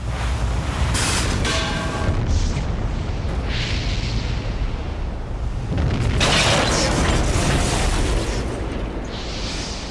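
Ship engine explosion in the video game Parasite Eve, a sustained roaring blast with rumbling bursts and crackling debris, loud and dense for the full length with no talking.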